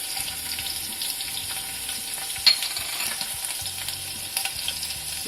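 Garlic and green chillies frying in hot oil in a kadhai, a constant close hiss and sizzle with a couple of sharp clacks from stirring, steady and unbroken, no voices.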